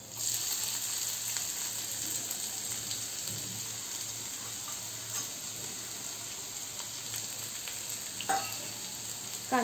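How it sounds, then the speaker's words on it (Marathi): Finely chopped onion frying in hot oil in a pan for a Maharashtrian paneer bhaji, making a soft, even sizzle like light rain, with a few faint clinks and stirring sounds and no talking. "कांदा छान बारीक चिरून घेतला आहे आणि तो गरम तेलामध्ये घातला आहे"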